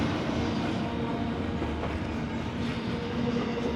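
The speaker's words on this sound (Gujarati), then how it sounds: "બધા મોટા મોટા ટ્રેલર બે એન્જિન હતા એટલે કદાચ લાંબી જશે વધારે લાંબી ટ્રેન" A steady, loud rumble of a long freight train with two engines rolling past close by at Marina Park, Thunder Bay, continuous throughout with a faint rhythmic clatter of wheels.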